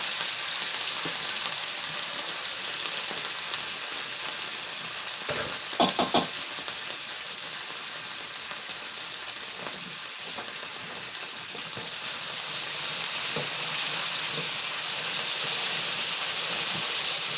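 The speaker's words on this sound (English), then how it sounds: "Good sizzle." Potatoes sizzle while frying in fat in a skillet, a steady close hiss and crackle lasting throughout, with a few brief stirring clatters near the middle and the frying swelling slightly louder toward the end.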